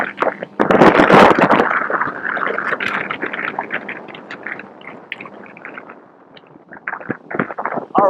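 A boat running at top speed on a 20HP Tohatsu outboard, heard mostly as loud rushing wind buffeting the microphone and water splashing, with a faint engine tone beneath the gusts.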